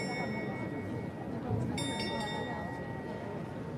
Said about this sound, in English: And you see the skeleton on the right ringing the bell.